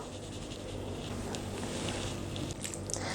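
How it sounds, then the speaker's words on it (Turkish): Sugar, vanilla, baking powder and an egg being mixed in a bowl, giving a continuous close, wet squishing and scraping texture with no pauses. "Bu malzemelerin hepsi birbirine iyice geçinceye kadar karıştırıyorum."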